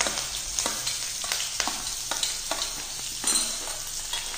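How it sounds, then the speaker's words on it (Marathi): Onion sautés in oil in a pan for a green moong masala. A constant frying sizzle runs under repeated scraping stirs, heard up close with no voices. "म्हणजे लालसर असा कांदा परतून घ्यायचा तेलामध्ये"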